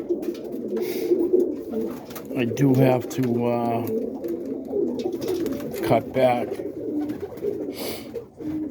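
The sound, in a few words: Boston roller pigeons cooing in coop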